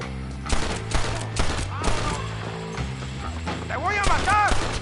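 Gunfire rattles in Red Dead Redemption, with a run of sharp mechanical shots and clicks, some bursts loud and close, mixed with game sounds and voices.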